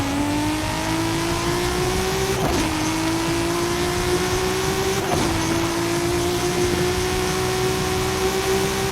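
Sports car engine in a racing video game, either NFS Heat or Forza Horizon: a steady, loud, continuous drone whose pitch climbs gradually as the car accelerates, with two brief bumps along the way.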